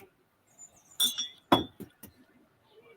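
Small glassware clinks a few times at a bar, sharp bright taps spaced irregularly, fairly close, with little else around.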